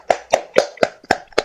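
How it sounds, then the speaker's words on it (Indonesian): Six slow, evenly spaced hand claps ring out close by in a classroom for a student group, each one sharp and distinct with quiet gaps between them. "Tepuk tangan untuk kelompok 1."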